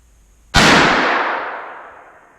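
A single loud shot from a Savage Arms Model 2 rifle in .243 cracks sharply out of near silence, then rings off in a long fading decay lasting about two seconds.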